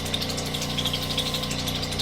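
A Highland Park SM1 shaping machine runs with an 80 grit wheel, giving a steady motor drone with a harsh grinding hiss from the abrasive contact, close and continuous without talk.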